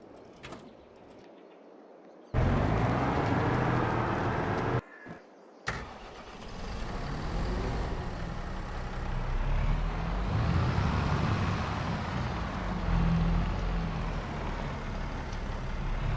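A tractor engine in Farming Simulator 22 cranks and catches after a quiet start, cuts out briefly, then starts again and settles into a loud, steady idle rumble with no talk.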